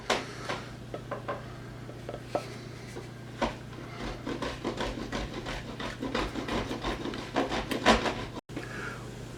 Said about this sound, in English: while he's grating the soap